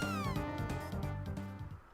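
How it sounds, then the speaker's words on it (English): Cat meowing in the Chrono Trigger video game, a drawn-out, rising and falling meow repeated over steady game music, clear and fairly loud, with no talking. "What's that sound? Could it be the kitty that we saw in the Giant's Claw?"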